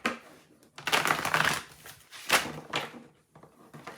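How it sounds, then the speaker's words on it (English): A well-worn tarot deck being shuffled, with several bursts of riffling and cards slapping together, close and fairly loud, separated by short quiet gaps. "Definitely having a hard time shuffling this deck."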